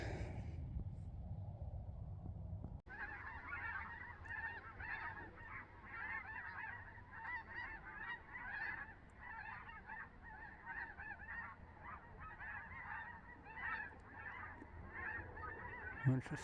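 After a brief low rumble, a large flock of snow geese honks continuously overhead, a faint, distant chorus of overlapping calls.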